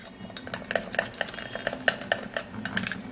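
A spoon stirs a thick rice powder paste mixed for a facial hair removal treatment, making repeated clinking scrapes against the bowl in a quick, uneven rhythm, close and fairly quiet.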